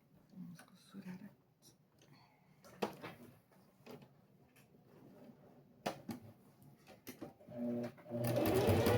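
A domestic sewing machine stitching fabric for a small handmade box, a soft intermittent whir through most of the stretch that swells into a loud, steady run near the end, with someone talking close by over the early part.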